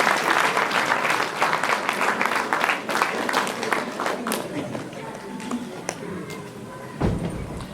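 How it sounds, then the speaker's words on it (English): An audience at a health talk claps loudly, a thick burst of applause that thins into scattered individual claps before dying away. "You should clap now."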